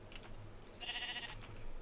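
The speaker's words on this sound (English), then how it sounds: "I want to snip the wool off of my sheep" A single short sheep bleat in a video game, faint and brief over a quiet background with light clicking.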